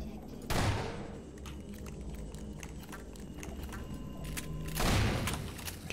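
Two heavy bursts of gunfire in Half-Life 2, the first at about half a second and the second near five seconds, each a loud booming blast, with quieter clattering shots between them in a low background.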